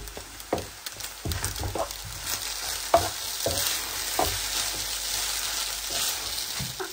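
Noodles frying in a pan with egg and desi ghee, a continuous sizzle broken by repeated spatula stirs and scrapes, close and fairly loud, with no speech.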